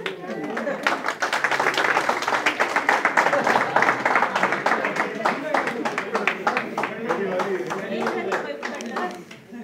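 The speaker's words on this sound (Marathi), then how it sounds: "टाळ्या." Audience clapping fills a placement-process talk for college freshers, a dense, steady patter of many hands that holds for the whole stretch and thins slightly near the end, with voices mixed in underneath.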